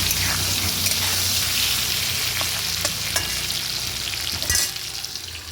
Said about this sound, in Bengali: আলুটা এবার ফ্রাই করে নেবো হালকা একটু নুন দেবো আলুতে